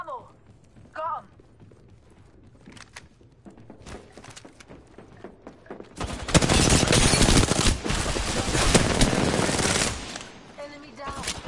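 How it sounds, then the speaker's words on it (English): Bursts of shooter video-game gunfire on a PS4, starting sparse and soft, then swelling into a loud, dense rattle of rapid shots for several seconds before tapering off. "We're shooting. Being shot at."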